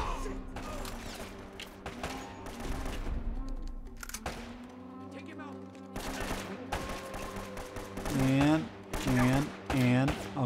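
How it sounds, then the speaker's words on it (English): Gunfire from a shotgun blasting through wooden banisters in the video game Uncharted: Drake's Fortune, a dense burst of loud shots over busy game sound, followed by several strong booming hits near the end. "The little dancing shotgun. Shooting through the banisters."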